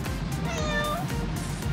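A kitten gives a drawn-out, wavering meow, clear and close, over a steady dense background of music.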